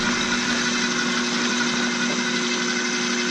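A KitchenAid food processor blending onion and garlic into a paste, a steady close motor whine with a constant tone and churning texture, continuing evenly without talk.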